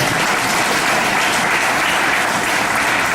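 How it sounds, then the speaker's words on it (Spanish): A church congregation breaks into loud, sustained applause, dense continuous clapping filling the room from start to finish with no voices standing out. "denle un aplauso al Señor, por favor, de verdad"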